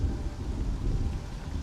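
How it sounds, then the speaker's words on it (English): Low rolling thunder and steady rain in the space game Starfield, a continuous deep rumble with a soft wash of rainfall, moderately quiet and with no voices. "Ooh, thunder,"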